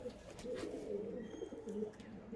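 Pigeons coo softly and steadily while being handled in a loft, a low continuous murmur of calls close by with faint chirps over it.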